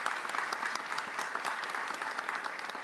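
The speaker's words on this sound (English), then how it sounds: "A big round of applause for them, please." Sustained applause from a sizable audience at an education event where the Louisiana governor speaks, steady crackling claps at even volume throughout, no voices on top.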